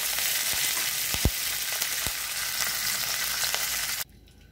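Curry leaves frying in hot oil for a raw coconut green chutney, a dense, bright crackling sizzle close up with a couple of low thuds, cutting off abruptly near the end.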